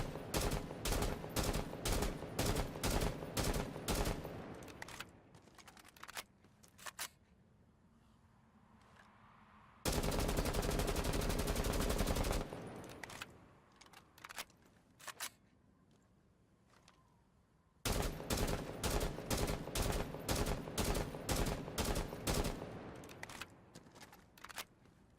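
IQ's weapon fires in Rainbow Six Siege: full-auto magazine dumps of rapid shots, then a dense sustained burst, pauses with scattered single rounds, and another rapid automatic string, loud and close.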